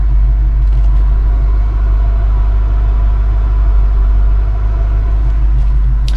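An RV drives through city streets, its engine giving a steady, loud low rumble with constant road noise and no talking.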